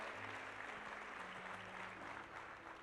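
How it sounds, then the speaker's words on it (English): Continuous, fairly loud audience applause at a Les Brown motivational speech, dense and steady throughout with a low hum running underneath. "give Rick a round of applause"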